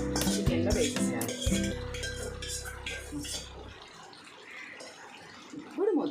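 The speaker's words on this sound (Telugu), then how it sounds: "స్టవ్ మీద పెట్టేసుకొని కొంచెం ఈ గోంగూర అంతా కూడా చికెన్లో వేసేసేయాలి." Gongura leaves go into chicken in a metal pot on a stove with clattering pot and utensil clinks, a busy stretch of clanking early, then quieter scraping and stirring, with someone speaking over it.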